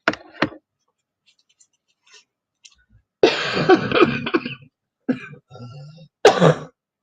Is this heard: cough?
yes